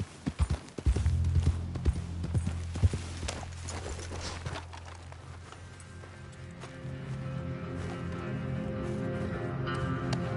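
Hooves of a ridden horse in a video game clip-clop in a quick running rhythm, loud and near at first, then settling under a steady layered background din.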